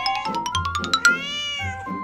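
A cat meows close by in a rapid string of short, squeaky calls, then gives one longer, drawn-out meow and a softer call after it.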